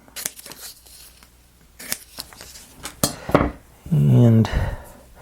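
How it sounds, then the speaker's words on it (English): Scissors cut squares from a strip of sticky tape, making several sharp, close snips and clicks scattered among quieter handling noises, with a brief voiced sound near the end. "So get my scissors and just pop a couple of squares off here."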